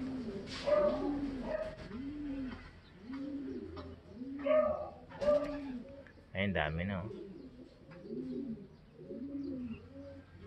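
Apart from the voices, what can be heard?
racing pigeons cooing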